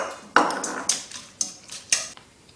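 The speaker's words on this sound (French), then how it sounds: "Mettre un œuf et fouetter rapidement après." An egg whisked rapidly into choux pastry dough in a bowl for éclairs, heard as five sharp, separate clinks and scrapes of the whisk against the bowl, close and clear.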